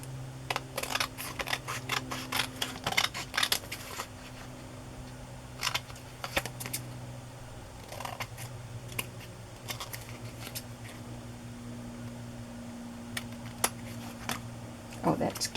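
Scissors snipping through a paper craft tag, a series of short sharp cuts in irregular bursts with quiet gaps, close and soft over a low background hum.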